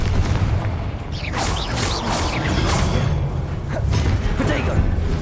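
Confringo blast spells go off in a Hogwarts Legacy fight, giving repeated booming bursts and whooshing impacts over a dense, rumbling battle backdrop.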